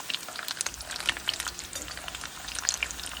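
Chiles and garlic tossed into a hot pan for carnitas tacos, sizzling and crackling steadily up close with sharp popping spatters throughout.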